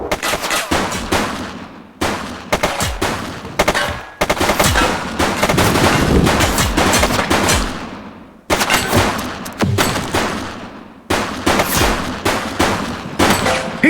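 Gunfire in The Precinct video game: loud, sustained bursts of rapid automatic shooting broken by short pauses, continuing nearly nonstop with no talking.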